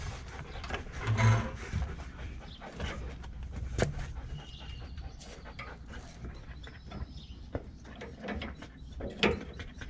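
A ratchet wrench turns the nut on a sway bar end link of a Ford Raptor, giving a close, continuous series of clicking pawl sounds and metallic rattles with a few louder knocks.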